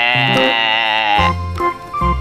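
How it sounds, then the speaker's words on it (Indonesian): A sheep bleats in a drawn-out, wavering call over a loud musical backing, with another short bleat-like cry near the end. "Wow, domba."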